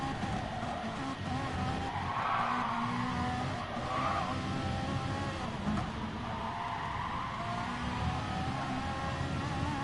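Gran Turismo Sport race cars braking side by side into a corner, with steady engine drone and tire squeal and skidding throughout, fairly quiet and continuous with no talk.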